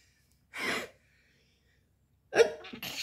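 A single sharp human sneeze bursts out nearby, followed after a quiet pause by another loud, breathy vocal outburst.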